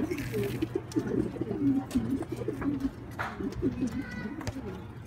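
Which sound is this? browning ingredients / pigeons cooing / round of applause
pigeons cooing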